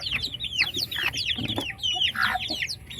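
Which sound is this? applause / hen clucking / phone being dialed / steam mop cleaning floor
hen clucking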